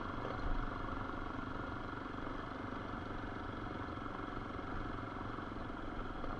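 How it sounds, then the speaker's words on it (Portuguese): A motorcycle rolls over a rough road strewn with big rocks in the Piauí countryside, its engine a steady, moderate drone with faint clatter and no talk. "aqui é uma moto boa pra estrada assim"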